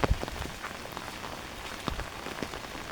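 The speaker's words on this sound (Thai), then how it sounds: "ยามนี้ฝนตก" Rain falling over rice paddies in the countryside, a steady close patter of drops hitting surfaces, with a few louder splats near the start and throughout.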